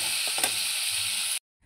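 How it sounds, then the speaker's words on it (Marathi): Crab fries in a pan with salt, a steady close sizzle and hiss with a couple of soft stirring clunks, ending abruptly. "खेकडा फ्राय चाललेले आहे इथे"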